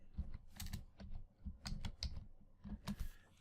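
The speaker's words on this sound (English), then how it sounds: "We type in our password." Password typed on a computer keyboard, a quick run of light, irregular key clicks with short pauses, fairly close and quiet, with no voices.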